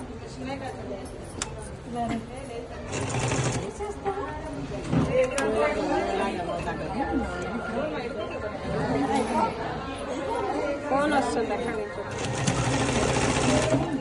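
A sewing machine stitches a school uniform in a tailoring workshop, running in steady whirring bursts that stop and restart, close and loud, with a person talking over it.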